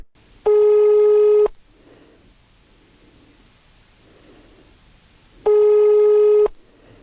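An unanswered phone call on a telephone line gives two long, even electronic beeps about five seconds apart, with faint hiss and low murmur filling the gap between them.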